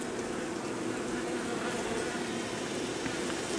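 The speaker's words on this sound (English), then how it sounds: "we want to get some more of these bees onto the brood" Honey bees being moved out of a pop-up camper make a dense, steady buzz that fills the whole moment, close and continuous with no pauses.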